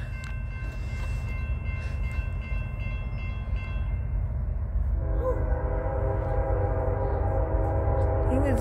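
A westbound freight train rolls past at Macungie, Pennsylvania with a loud, sustained rumble and rail noise, and a horn-like tonal blare rises in the second half. No one speaks over it.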